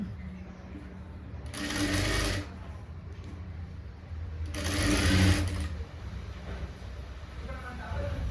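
An electric sewing machine stitching a blouse neckline runs in two separate bursts of rapid whirring, close by, with quiet room noise between them.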